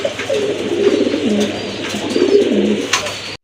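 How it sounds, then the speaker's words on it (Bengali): A single male Bombay pigeon with red-checker-like colouring coos close and clearly, giving two rolling, throaty coo phrases in a row, with faint background chirps. "মাশাআল্লাহ দেখেন একটা সিঙ্গেল নর কবুতর মুম্বাই"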